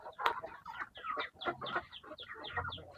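A Dumpo breeder gamecock in a backyard yard gives a string of short, close clucks and throaty calls in uneven bursts, fairly faint, with no talking.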